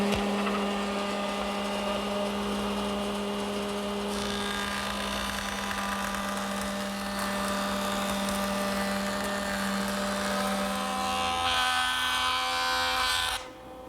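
A router fitted with a 3/8 inch radius coving bit shapes the edge of a wooden piece, a loud, steady, close high whine that holds for about thirteen seconds before cutting off.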